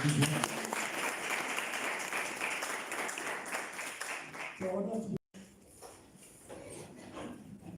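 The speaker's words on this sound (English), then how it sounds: "We can clap for everyone." An audience at a 2022 year-end mentorship function claps, a dense burst of applause that thins out, with a short dropout and voices talking over it.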